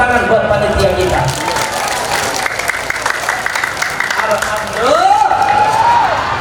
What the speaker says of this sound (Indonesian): Tepuk tangan buat panitia kita.